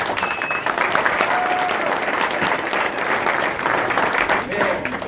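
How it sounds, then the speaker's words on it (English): A crowd at the 2019 SR20 convention gives VIP ticket holders a steady round of applause lasting several seconds, loud and close, with voices and cheers mixed into the clapping. "round of applause for them"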